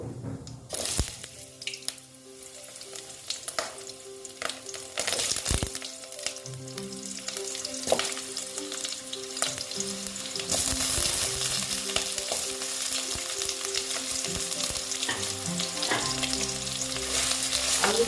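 Potatoes dropped into hot oil over black cumin seed tempering for a drumstick chorchori, with a steady, close sizzle and crackle that swells as the pieces settle, plus occasional clatter, and no talking.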